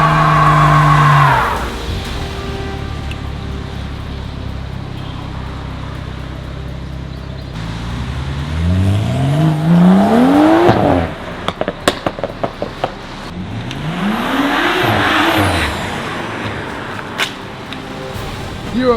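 A BMW M135 engine revs hard and climbs in pitch repeatedly, with sharp pops and crackles, as people talk and shout over it.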